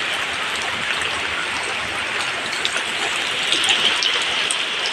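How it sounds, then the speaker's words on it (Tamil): Steady rain falls around a home in a rural setting with a yard and fence, a continuous broadband hiss with scattered droplet patter, moderately loud and even throughout, with no voices. "மழை வருது."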